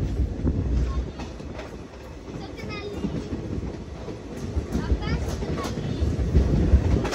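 A passenger train pulling into Satnali station in Haryana, with a steady low rumble of rolling wagons and faint clicks throughout, moderately loud and continuous, with some background voices.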